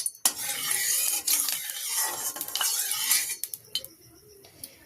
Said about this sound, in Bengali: কোড়ার মধ্যে আমি কিছুটা তেল দিয়ে দিচ্ছি।